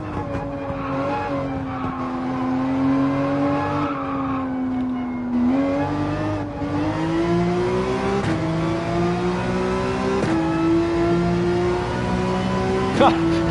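A race car engine in Gran Turismo 7 is held at full throttle, its loud, sustained whine climbing in pitch and dropping briefly at a few gear shifts, with someone talking over it.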